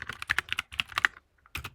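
Computer keyboard keys clatter in quick bursts as HTML code is typed, with a short pause before another flurry of keystrokes, close and fairly clear.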